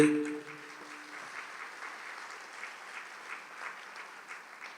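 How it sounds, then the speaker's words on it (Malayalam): A church congregation claps hands together in a soft, steady, fairly distant ripple of applause, following a brief tonal sound at the start. "ഒന്ന് കൈയുയർത്തി കൈയടിച്ചേ."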